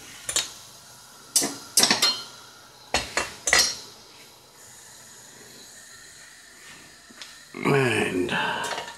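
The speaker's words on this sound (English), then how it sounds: "another saucepan, another frying pan" Saucepans and frying pans clatter on a stove in a kitchen: a series of sharp metallic knocks and clanks in irregular bursts, then a brief sizzling rattle near the end, close and fairly loud.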